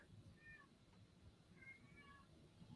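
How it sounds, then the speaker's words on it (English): A house cat wanting its dinner gives faint, thin meows twice over a quiet background hum, distant and low in level. "My cat wants his dinner."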